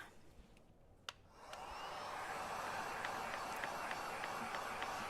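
A hair dryer switches on and blows steadily onto a freshly painted Christmas ornament, a continuous close airy roar after a brief quiet start with a click.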